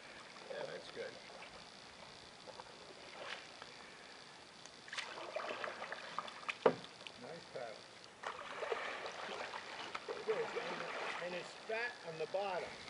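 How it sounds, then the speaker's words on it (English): Soft canoe paddle strokes with an ottertail paddle during J-stroke demonstrations, faint watery swishes and drips, with someone talking over the quiet splashing outdoors. "you will notice he's keeping the paddle in the water as he comes forward with it"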